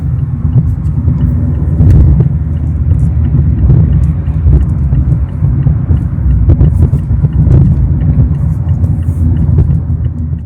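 A 2024 Mazda MX-5 Miata accelerates onto the interstate, its engine and road noise forming a loud, continuous low rumble heard from inside the car.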